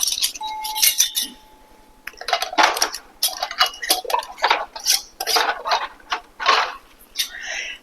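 Glass jam jars clink and rattle as metal lids are screwed on, with short scraping twists and taps in uneven bursts, close by, and a brief tone near the start.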